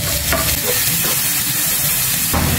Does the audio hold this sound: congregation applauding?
no